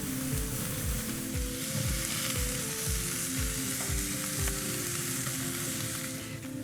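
Beef sizzles steadily on a hot grill for a Thai grilled beef and eggplant salad, a close, continuous crackle with regular soft pulses underneath.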